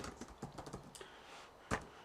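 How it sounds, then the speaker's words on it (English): Quiet, quick keystrokes on a laptop keyboard: a run of irregular light clicks, then a brief pause and one sharper tap, close and faint. "So I can type traditionally there."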